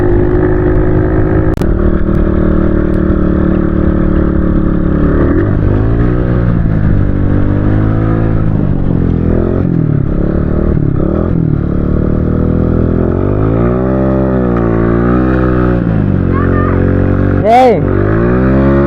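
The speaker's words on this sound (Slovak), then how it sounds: "Vôbec mi neťahá táto motorka." A pit bike motorcycle engine drones loudly and close while being ridden over a field toward town, its pitch rising and falling continuously as the throttle changes, with a sharp rev near the end.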